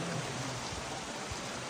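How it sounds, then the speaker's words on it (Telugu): Strong, steady rush of water flowing down over temple steps, a dense continuous wash close by with no voices. "సో వాటర్ ఫ్లో మస్తు ఉంది అసలు"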